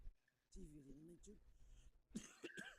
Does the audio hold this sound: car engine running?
no